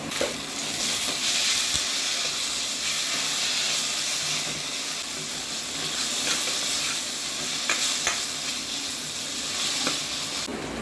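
Ginger garlic paste sizzles and fries steadily in hot oil with softened onions and curry leaves in a pan, a continuous close hiss with occasional crackles and stirring, no talking.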